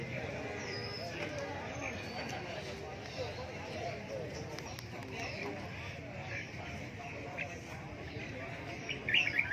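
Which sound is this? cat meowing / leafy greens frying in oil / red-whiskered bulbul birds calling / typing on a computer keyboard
red-whiskered bulbul birds calling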